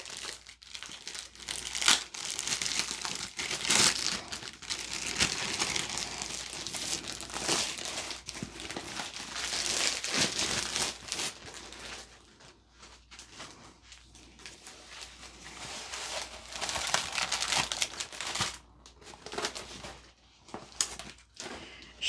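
Plastic packaging on a diamond art kit crinkles and rustles steadily for over twenty seconds during an unboxing, close to the microphone, with brief dips and a few louder crackling bursts.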